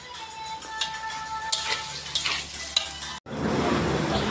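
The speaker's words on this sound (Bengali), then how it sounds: "আর এই পাশে হচ্ছে চিকেন কষা।" Chicken kasha is stirred in a pan beside frying fish and potatoes, with a steady sizzle and several scraping strokes, then a brief pause before a louder, denser frying hiss.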